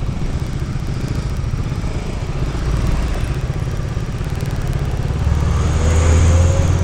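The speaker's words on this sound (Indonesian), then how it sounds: "Dari sini udah kelihatan kalau kita lagi dikepit motor-motoran nih" Motorcycle engines idle and rev all around in a stalled traffic jam in Singkawang during the Lebaran holiday, a steady close drone of mixed engines that swells louder toward the end, with no talk.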